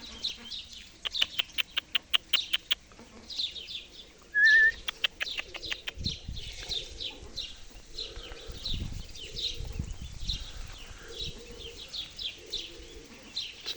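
Pigeons take off in a burst of sharp wing claps, followed by fluttering flaps and soft cooing and chirps around a loft, fairly close, with a faint background hum.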